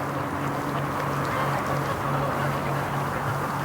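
Muscovy ducks quacking at a lake in the rain, low repeated quacks pulsing through a steady, dense wash of rain and water noise.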